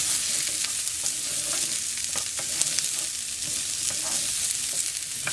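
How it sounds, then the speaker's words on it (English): A half cup of diced onion sautés in hot oil in a pan for stuffed pork chops, making a loud, steady, close sizzle broken by repeated scraping stir strokes. "I got my oil hot, so I'm going to go ahead and add a half a cup of diced onion."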